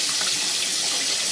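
Cold water runs from a tap over wild geese being rinsed for cooking, a steady, bright and close rushing stream with no breaks and no voices.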